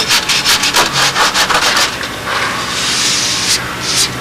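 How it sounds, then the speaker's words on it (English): Soft punk wood on a model aircraft wing is sanded by hand, with quick rhythmic rubbing strokes up close that settle into a longer, steadier scraping hiss. "It really sands really quickly"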